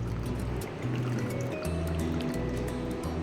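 Whey draining from freshly made homemade paneer tied in a cloth, a steady close trickle and splashing of liquid with low gurgling throughout.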